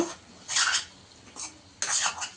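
Spatula scraping and clinking against a pan while egg fry mixture is stirred on low heat; two louder bursts of metallic scraping with a quieter stroke between, close by, no talk.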